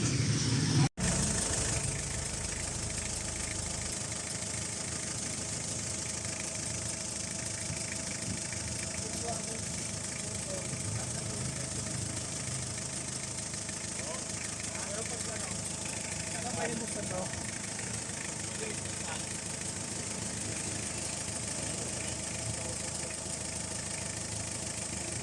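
A freshly restored, newly overhauled car engine idles steadily with a constant mechanical hum and some rattle, preceded by a brief thump at the start; low voices murmur faintly in the background.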